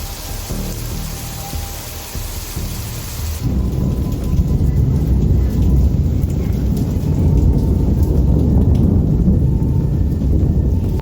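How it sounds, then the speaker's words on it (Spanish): A deep rumble of thunder during Hurricane Erin in the Dominican Republic rolls in and builds into a loud sustained roar over steady rain, lasting to the end. "Vamos a ver cómo vibra con el trueno."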